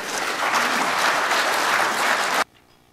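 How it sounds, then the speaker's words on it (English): Conference audience breaks into a dense, even round of clapping that holds steady for about two seconds and then stops abruptly. "give a big round of applause"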